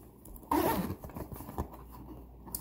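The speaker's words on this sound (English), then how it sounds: "if I can open it, zipper pocket here that has the registration card" The zipper pocket inside a Dooney and Bourke chestnut saddle crossbody bag is opened with a short, faint scraping zip burst, followed by soft handling rustles.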